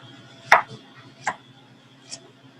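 Knife chopping an onion on a cutting board, three separate sharp taps spaced out and fairly close, with quiet kitchen ambience between them.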